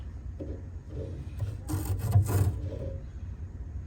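A hand rubs inside a rusty gas tank of a 1998 Mitsubishi Galant, a few short close scraping strokes building into a louder gritty rasping burst before easing off.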